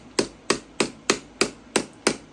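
A hammer taps snug wooden pieces of a Walker Edison 58-inch TV stand together in eight steady, evenly spaced knocks, close and moderately loud with no talking.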